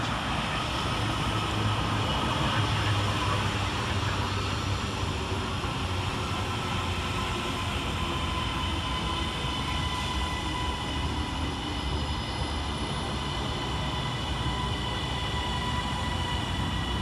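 Class 397 TransPennine Express unit 397.010 pulls into Motherwell station on a Glasgow Central to Manchester Airport service, a steady, close rumble and hiss of the train lasting throughout with no voices.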